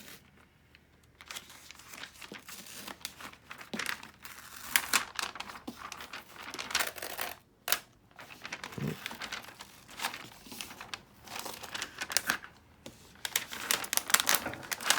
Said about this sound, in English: Guess I can rip this. I don't need it anymore.